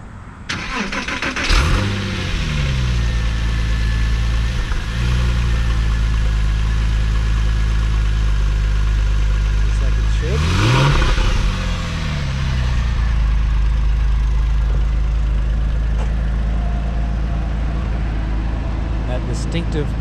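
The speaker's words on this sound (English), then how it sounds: "Porsche sound." A 2004 Porsche 911 40th Anniversary Edition cold-starting, its engine cranking to life then idling loudly with steady rumble and rising revs twice, close by and continuous, with a voice heard briefly.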